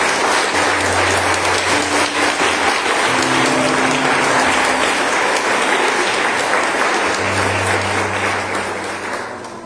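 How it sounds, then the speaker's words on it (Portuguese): A church congregation applauds during a celebration service, steady dense clapping lasting several seconds, loud and close, with low hum and faint voices underneath before it begins to taper off. "Um aplauso ao Senhor."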